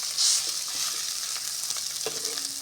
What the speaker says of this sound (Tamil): இந்த மாதிரி சாதத்தை போட்டு நல்லா மிக்ஸ் பண்ணிக்கோங்க.